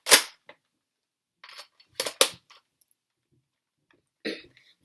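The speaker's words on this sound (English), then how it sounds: "This is a bolt action Nerf blaster. So you bolt it to do that." Bolt action of a Nerf Elite 2.0 toy blaster being cycled: a few short, sharp plastic clacks and snaps, close and fairly loud, spread across a few seconds of quiet with no talking.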